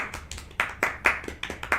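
A small audience applauding a speaker after a talk: a brief run of about a dozen distinct, close handclaps in a loose, uneven rhythm, fairly quiet and with no talk.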